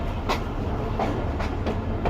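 Steady low rumble of a train pulling away from Ruk railway station towards Larkana, with faint periodic clicks of wheels over rail joints, continuous and moderately close.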